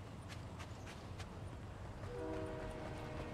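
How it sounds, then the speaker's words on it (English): A train in Fortnite rumbles past with a steady rolling drone and a brief horn tone near the end, heard alone against a low background. "Train is near."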